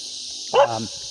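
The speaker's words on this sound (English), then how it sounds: "That's my dog barking." A single dog's bark, one short loud yelp close by, over a quiet steady background hiss.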